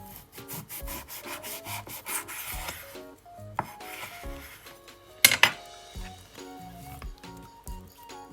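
Knife working through pork belly with its fat layer on a cutting board in a home kitchen, giving repeated scraping and chopping strokes, some rapid and close, with a couple of sharper knocks midway and no talk.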